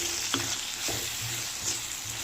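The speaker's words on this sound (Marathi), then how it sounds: "परतून घेऊया आपण मसाले पण" Turmeric, coriander and cumin powder sautéing with softened onion, tomato and chana dal in a pan, a close, steady sizzle with a few soft stirring knocks and scrapes, no one speaking.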